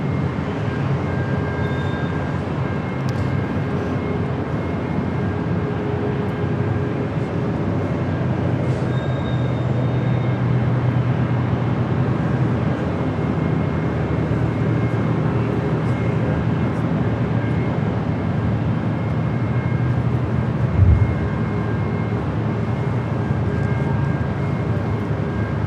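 Southwest Airlines Boeing 737 MAX 8 taking off at LAX, a steady broad jet roar heard from a distance that holds for the whole stretch with little change in loudness.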